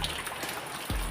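Heavy rain, a dense steady hiss pouring down without pause, loud and close, with a low thump near the end.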